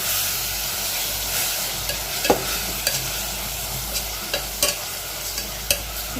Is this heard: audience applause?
no